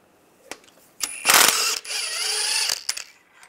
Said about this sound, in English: Now I'm going to take a 13 millimeter socket and take these two bolts out